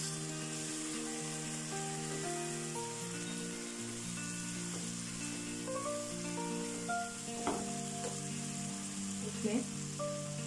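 Spices being mixed into a pan for vegetable jalfrezi give a steady sizzle, with occasional stirring clinks, while a sustained background music tone plays throughout.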